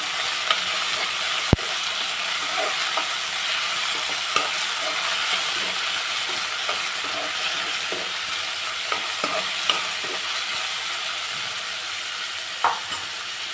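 Chopped beans and other vegetables fry in hot oil in a pan for restaurant-style upma, giving a loud, steady sizzle and hiss throughout, with occasional light clicks of stirring.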